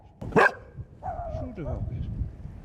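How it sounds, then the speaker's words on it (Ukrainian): A single sharp bark from an abandoned dog in a deserted frontline town, followed by a few whining yelps, with voices talking nearby. "собаки."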